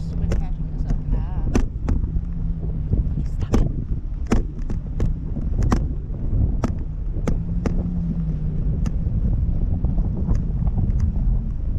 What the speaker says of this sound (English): It's just wind catching us up.